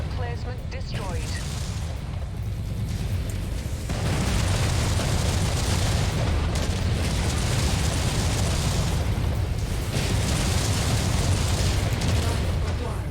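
Artillery emplacement blowing up in the mech combat game MechWarrior 5, a heavy rumbling boom that swells partway through into a sustained roar of explosions and crackling debris, loud and continuous to the end.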